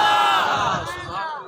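A large crowd at a religious gathering shouts a slogan in unison, a loud, dense roar of many voices that swells and then fades slightly over a second and a half.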